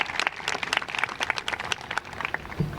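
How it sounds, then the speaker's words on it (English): Audience applause at a 2022 John F. Kennedy High School commencement ceremony, a dense patter of many clapping hands at moderate level, steady across the moment without speech. "let's have a round of applause for Dr. Parry in his first graduation speech"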